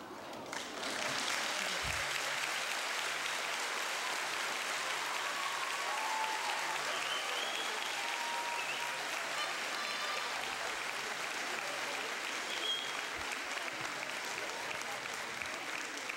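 Sustained audience applause fills a school auditorium at an eighth-grade recognition ceremony: a dense, steady wash of many hands clapping at constant loudness for about sixteen seconds, with no break and no talk over it.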